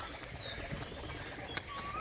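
A released tumbler pigeon beats its wings in a few quick, soft flapping bursts, with faint bird chirps and outdoor ambience around it.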